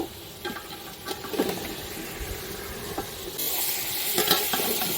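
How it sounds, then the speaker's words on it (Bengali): A fish fries in a pan in the Sundarbans at Gosaba, crackling and sizzling nearby with stirring clatter, and the sizzle grows louder toward the end. "দাঁড়াও একটু ফ্রাই হয়ে যাচ্ছে"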